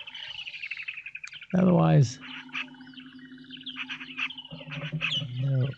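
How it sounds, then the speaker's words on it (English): An unseen bird calls outdoors near water where Egyptian geese are present, giving repeated chirps and trills, while someone briefly speaks over a stretch of it. "I wish that bird would be somewhere where we could see"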